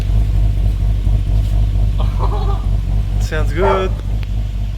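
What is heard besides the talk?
Lexus IS300 car engine running after timing belt replacement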